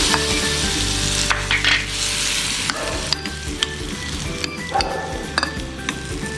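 Spluttering mustard-seed tempering is added to mango for Kannur-style mango perakku, with a loud, dense sizzle, a sharp burst as the hot oil hits, and scattered clinks of utensils against the pan, all close and without speech.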